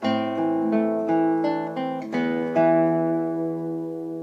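Acoustic guitar picks out a passage of Beethoven's Für Elise, single plucked notes ringing over one another and fading into a sustained final tone, played alone without voices.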